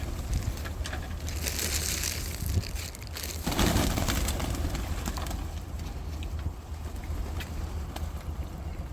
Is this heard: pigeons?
yes